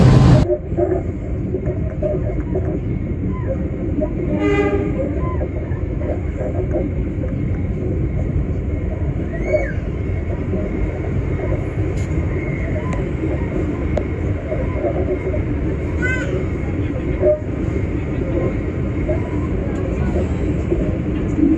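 The Sri Tanjung passenger train at Lempuyangan station in Yogyakarta gives off a steady, loud, low rumble for over twenty seconds, with muffled voices mixed into the noise.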